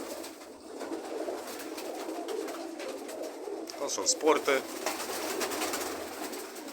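Racing pigeons coo softly and steadily in a loft, a low throaty murmur running throughout, while someone talks over them nearby and a few brighter calls rise briefly near the end.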